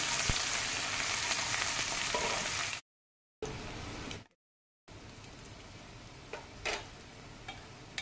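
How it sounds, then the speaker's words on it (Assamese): Eggs sizzle and crackle steadily in a hot pan, a constant frying hiss with occasional sharper pops, interrupted by a couple of brief silent gaps. "ডিমকেইটা ভাজি লৈছোঁ।"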